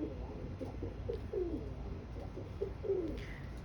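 A king pigeon in an aviary coos softly several times in low, rolling phrases, fairly close, over faint background noise.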